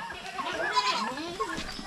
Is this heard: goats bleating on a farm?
yes